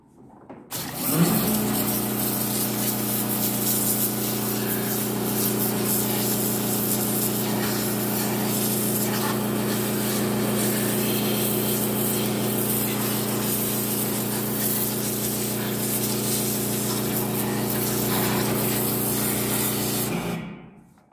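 Bosch cordless pressure cleaner spraying water, a loud, steady hissing jet with a droning pump hum, starting abruptly and running continuously for about twenty seconds before cutting off, close by.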